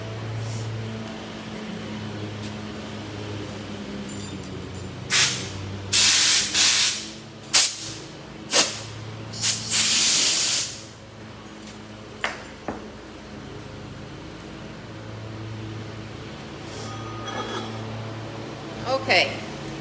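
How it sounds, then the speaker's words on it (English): Compressed-air hose blasting through the end of a freshly cut stainless-steel braided -8 AN hose, several loud hissing bursts of a second or two each, close by, with a steady hum and some talking between them. "I'm going to go ahead and blow it out with an air hose."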